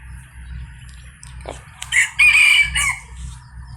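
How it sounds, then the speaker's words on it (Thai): A young white-eared Thai decoy fighting rooster crows once, loud and close, over a low steady hum, with a few short clucks around it. "ตัวนี้ก็เป็นไก่ต่อนะครับ"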